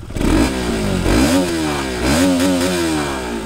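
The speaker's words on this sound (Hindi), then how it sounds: "तो ये रही RS की एग्जॉस्ट नोट।" A KTM RS 200 BS4 motorcycle revs its exhaust in three rising and falling throttle blips, loud and close, with a mechanical clatter under the engine note.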